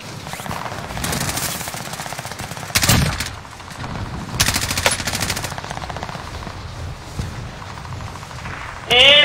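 Bursts of rapid automatic gunfire in a video game crackle in short volleys, with a few heavier blasts standing out, over faint background voices.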